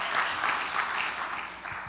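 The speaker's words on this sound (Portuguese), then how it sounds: "Era a hora de vocês aplaudirem." A church congregation at a sermon breaks into applause, a moderate, even patter of many hands clapping that fades slightly toward the end.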